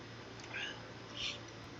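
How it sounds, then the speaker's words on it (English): A pet cat named Bootsy gives two short, faint meows, spaced apart, seeking attention against a low steady background hum. "here's one of the cats who's wanting to come see if he can get attention"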